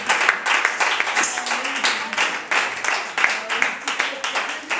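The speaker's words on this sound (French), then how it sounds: "Les acclamations." Church congregation applauding and cheering in a dense, continuous wash of clapping and voices, with rising swells and loud bursts throughout.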